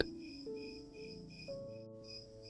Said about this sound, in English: Crickets sang steadily